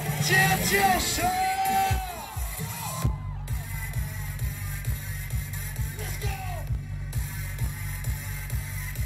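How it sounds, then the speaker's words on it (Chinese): Festival crowd screaming and cheering at the opening of a fireworks festival, a loud burst of shouts and whoops early that fades under a pulsing DJ beat, with another swell of yelling midway. "让我听到尖叫声"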